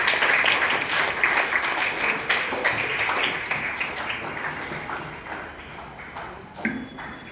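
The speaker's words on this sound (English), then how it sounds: "Let's give a big round of applause for our junior debaters" A school audience applauds junior debaters at an inter-house debate competition, with a dense, steady clapping wash that starts loud and slowly tapers off.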